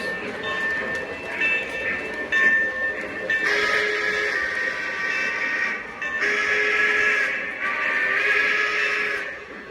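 Lionel LionChief 2.0 Plus model trains, a #773 4-6-4 Hudson and a Pennsylvania Railroad 4-6-2 Pacific, rumble and click along the track, two engines passing close with steady rolling noise that swells and dips.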